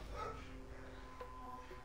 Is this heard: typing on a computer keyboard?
no